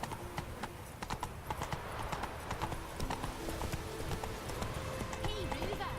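In The Witcher 3 video game, a horse gallops with rapid rhythmic clip-clop hoofbeats that continue steadily throughout, fairly close, beneath a low ambient game backdrop.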